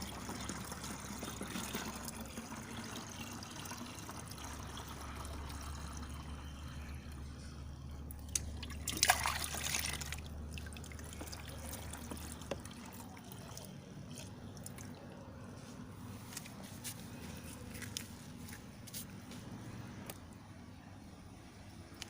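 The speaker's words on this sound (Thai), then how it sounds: "ก็ใช้ฝักบัวนะ" A watering can with a shower head sprinkles water onto chili plants in a garden, making a faint, soft trickle. A brief, fuller splash of pouring comes about midway through.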